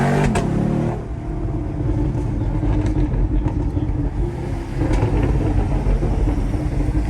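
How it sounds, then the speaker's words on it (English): Chevrolet Camaro SS engine running after a tune, a loud close deep rumble with a brief rev near the start and another surge later, steady throughout with no talking. "This car sounds alive again"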